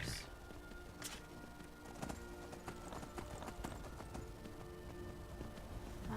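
Rhythmic clip-clop of horse hooves in Skyrim at a walking pace, with a brief whinny near the start, over low background ambience.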